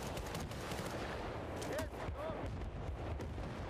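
Gunfire rattles in Battlefield Bad Company 2 on the Nelson Bay map, with repeated sharp shots and bursts heard moderately loud through the game mix, alongside faint whistling tones and a busy background.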